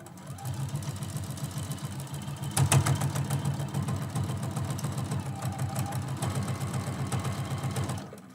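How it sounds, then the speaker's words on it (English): A sewing machine stitches quilt block pieces with a rapid, even mechanical chatter, close and steady, briefly louder near the start and running continuously until it stops at the end. "I'm stitching right off the edge."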